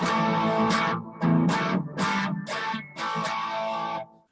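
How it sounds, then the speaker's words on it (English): Crunchy, overdriven electric guitar chords strummed in a choppy rhythm, loud and gritty, ending with a brief ringing tail. "My next patch is more of a generic sort of overdriven, crunchy kind of"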